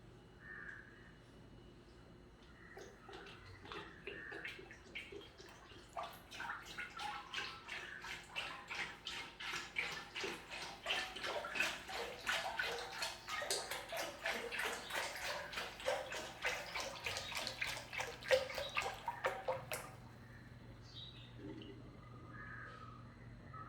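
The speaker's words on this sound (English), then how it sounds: "my dad is going to pour the 5 liter coconut oil into the urili" Five liters of coconut oil is poured into a copper urili, a soft, steady gurgling stream that swells for about fifteen seconds and then stops, quiet and close.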